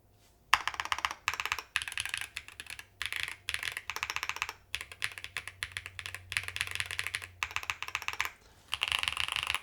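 Fast, continuous typing on a Yunzii mechanical keyboard with custom keycaps, close and crisp, the clicks coming in dense bursts with short pauses between runs.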